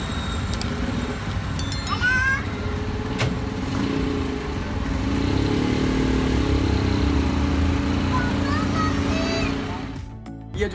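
A three-wheeled auto rickshaw engine runs close by in a steady, rattling putter, with occasional high chirps and street noise over it before it cuts off at the end.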